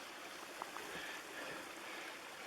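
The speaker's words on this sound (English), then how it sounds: "This creek is fed by fresh mountain top springs" A mountain creek fed by springs flows steadily in a canyon, producing a faint, even wash of rushing water with a couple of tiny clicks, no voices.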